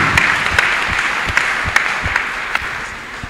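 A church congregation applauds steadily and loudly, a dense wash of clapping with a few sharper individual claps standing out, no voices on top.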